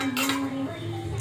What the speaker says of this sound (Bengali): ঠিক আছে, আবার চাপা দিয়ে দেবো